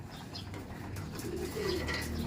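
Pigeons feeding in a crowded flock scrambling over scattered feed, soft cooing calls over a dense rustling din of wings and movement close by.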